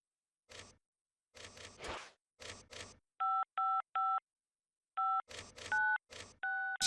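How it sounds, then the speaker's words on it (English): A telephone number is dialed in the video game Saints Row: a series of short clicky button presses followed by distinct two-tone DTMF keypad beeps, each evenly spaced, near and crisp with no speech. "let's see what happens if we call the phone number"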